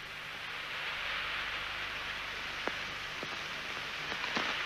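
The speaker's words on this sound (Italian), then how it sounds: "Piove." Steady rain falling, an even hiss with a few faint drips or taps standing out near the end.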